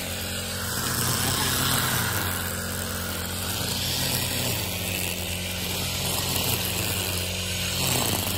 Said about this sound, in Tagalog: medyo maingay, nag-grass cutter